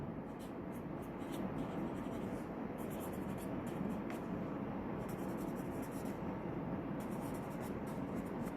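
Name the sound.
writing equations on a board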